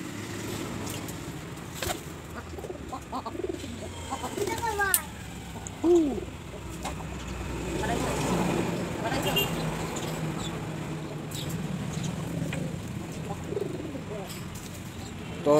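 Pigeons being fed grain coo softly in short, rounded calls, nearby, amid faint traffic and a few scattered human sounds.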